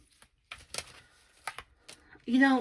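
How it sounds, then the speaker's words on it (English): Tarot cards are shuffled in a few short, crisp riffling bursts separated by brief pauses, and a voice begins just at the end. "As I was shuffling these cards,"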